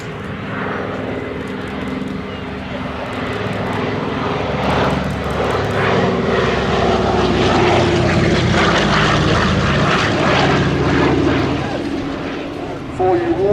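A Douglas Dakota III C-47 propeller aircraft flies past at the Headcorn Battle of Britain Airshow, its piston engines a loud, steady droning rumble that swells midway, with a commentator's voice talking throughout.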